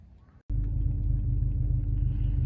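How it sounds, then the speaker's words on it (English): An Audi A8 D3's air suspension compressor starts abruptly after a short quiet moment, then runs as a loud, steady low mechanical hum and rumble close by, with no talking. "my car is trying to pump. You can maybe also hear the air compressor"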